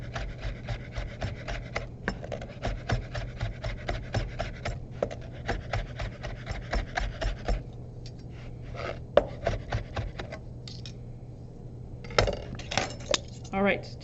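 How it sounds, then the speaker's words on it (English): A knife saws through food on a cutting board while making clam chowder, with the blade staying on the board. Rapid rhythmic scraping strokes run steadily and close up over a low hum, then turn into a few slower, sparser cuts. "that gentle sawing motion. My knife is never leaving the board here."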